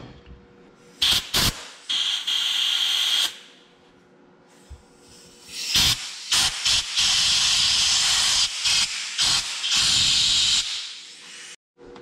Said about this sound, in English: So time for some compressed air.